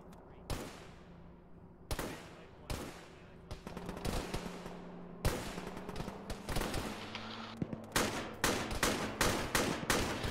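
Gunfire from enemy squads in the ShackTac Arma military game, with sharp bursts and single shots cracking out at irregular intervals, growing denser and more rapid toward the end, some near and some distant.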